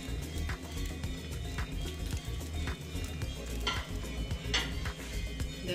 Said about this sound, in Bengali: ফ্রাই করে নিচ্ছি